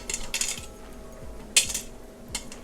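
A spoon clinks and taps against a pan while scraping ghee onto onions for French onion soup, several short metallic knocks in bursts, quiet and close with no talk.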